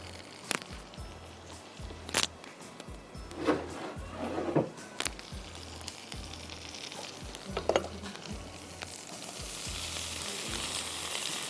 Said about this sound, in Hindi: ज़रा सा गार्लिक फ्राई हो जाएगा तो हम इसमें वेजीज डाल देंगे